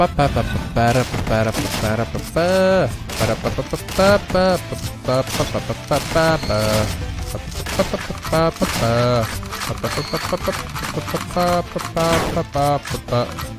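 Rapid shotgun blasts from the video game Dungreed go off again and again over loud, dense game music, with the bursts running almost without pause.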